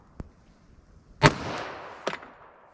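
A single sharp .45 ACP pistol shot fired over a chronograph outdoors, a loud crack with a ringing decay, followed by a fainter secondary bang; a soft click precedes it.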